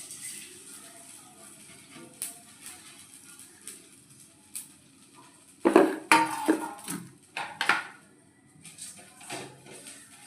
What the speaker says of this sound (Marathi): इथे मी इथे कढई ठेवली आहे तापत त्यात आपण हा जवळा भाजून घेऊया